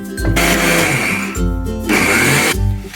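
An electric grinder powders roasted whole moong in loud bursts, a whining motor roar that starts, stops briefly and restarts three times, close and dominant.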